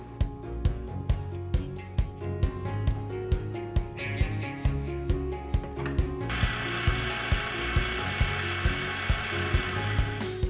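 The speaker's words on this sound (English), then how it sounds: "take a bowl and whisk together the sugar and the eggs until well mixed" An electric whisk beats sugar and eggs in a bowl with a continuous motor hum. Regular rhythmic ticks of the beaters against the bowl run throughout, with no talking.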